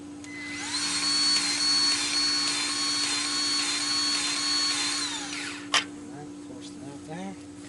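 Milwaukee M12 cordless grease gun running on a Kubota B2650 tractor, a steady whining motor hum lasting about five seconds, then a sharp click and some faint rattling afterward.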